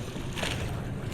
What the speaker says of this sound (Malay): Okey, bot dah sampai.